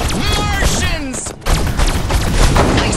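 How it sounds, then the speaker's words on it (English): Video game gunfire from Destroy All Humans! Remastered, loud bursts of shooting packed densely with booms and thuds, with game character voices shouting over parts of it. "Nice shooting, Crypto!"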